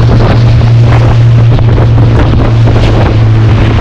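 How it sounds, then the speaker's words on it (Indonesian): A boat pitches through high Indian Ocean waves in bad weather, a loud constant roar of wind buffeting the microphone over a low engine drone and rushing water, with no talk. "Ombak Samudra Hindia sangat tinggi dengan hempasan yang begitu kencang."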